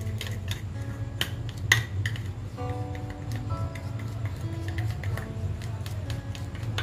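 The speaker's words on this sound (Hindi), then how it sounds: "इसके अंदर आप पाउडर डाल दीजिए, इसे आप अच्छे से मिक्स कीजिए।" A small utensil taps and clicks rhythmically against a bowl while Vaseline and hair dye powder are stirred together, a quiet steady ticking over a low background hum.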